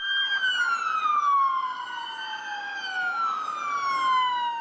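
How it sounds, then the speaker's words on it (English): A procession of Detroit police squad cars passing a family home with sirens wailing, several overlapping sirens rising and falling continuously, loud and near, no voices. "A seemingly endless line of Detroit squad cars with lights and sirens flashing past the Herbert family's home"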